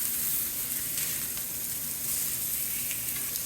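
Salisbury steak patties with onion browning in a pan, a dense steady sizzle and crackle close by, with scattered pops and no voices.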